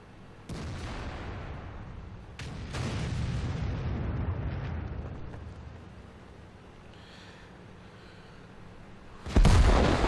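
A self-propelled artillery gun fires in World of Tanks, with booming shots at the start, a second heavy blast with a long rolling decay, and another sharp loud report near the end, no talk.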